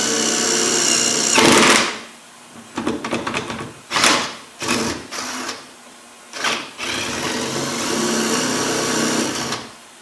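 Bursts of a power drill whirring up and down in short runs, close by, working on Land Rover Defender door latches and lock barrels, with pauses between them and a longer steady run at the end.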